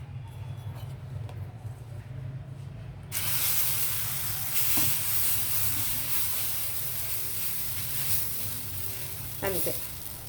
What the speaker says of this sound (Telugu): దీనికి కూడా నేను మరలా నెయ్యి వేస్తున్నాను కొద్దిగా